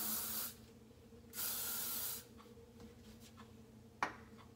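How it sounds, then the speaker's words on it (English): Hairspray from an aerosol can in two sustained bursts, each about a second long, close and fairly loud, followed by quieter handling and a sharp small click near the end. "A little bit of hairspray."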